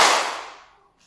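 A single sharp clap from a classroom audience of teachers during a counting clapping game at a school session, loud and crisp with a short ringing decay, alone without talk.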